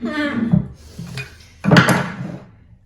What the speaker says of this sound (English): I gotta put the crock pot liner in.